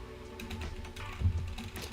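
Soft, rapid key clicks come from typing on a new computer keyboard, close and fairly quiet over faint room tone.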